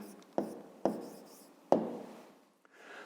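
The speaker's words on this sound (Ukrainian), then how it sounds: "Записуємо тоді відповідь" Pen strokes on paper as a fifth-grade maths answer gets written down: three sharp, close scratching taps spaced about half a second apart, quiet and dry, with a soft rustle trailing at the end.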